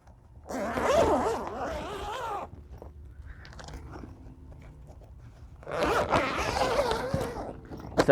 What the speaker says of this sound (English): it has these 3 flaps in the front, which zip out